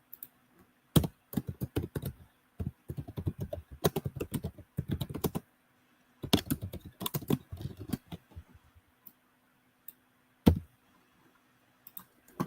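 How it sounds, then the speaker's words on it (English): Fingers type on a computer keyboard in bursts of rapid key clicks, separated by short pauses, with a few isolated louder taps near the end, close and clear, with no talking over it. "If I could type right."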